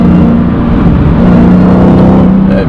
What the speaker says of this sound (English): That beautiful supercharger wine, it just sounds so good.